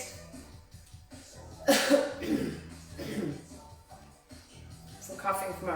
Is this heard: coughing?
yes